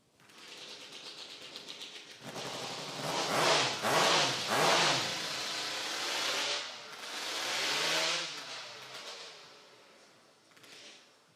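Hot saws with Wankel and Rotax motors warming up at a STIHL timbersports event, several bursts of screaming high revving that rise and fall in waves, loud and close, then trailing off.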